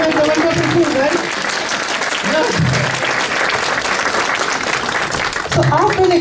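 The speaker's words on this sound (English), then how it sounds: "That's a big round of applause to all the volunteers, especially the ladies who make the wonderful food, right?" Crowd at an Open Mosque Day event at an Islamic Society gives loud continuous applause for volunteers, with a voice talking over the clapping at the start and again at the end.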